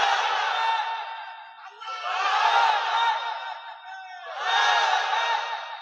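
A large crowd at an Islamic religious gathering in Bangladesh answers with three long, swelling shouts of the takbir, a roaring chorus of many voices rising and falling in unison with brief dips between them.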